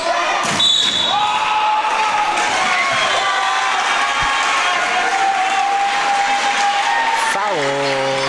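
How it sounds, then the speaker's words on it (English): A packed gym crowd cheers and chants at a boys' high school basketball game against Hickman County, a continuous loud roar with sneaker squeaks and whistle-like tones over it and a sharp burst near the end. "The crowd is going wild. They're chanting like crazy."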